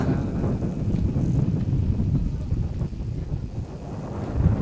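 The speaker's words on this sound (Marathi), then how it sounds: "जोराचा वारा" Strong wind gusts across an outdoor village cricket match, a steady low roar and buffeting rumble that holds at a fairly even loudness throughout, with no voices heard.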